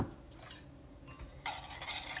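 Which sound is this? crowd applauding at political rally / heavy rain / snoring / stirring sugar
stirring sugar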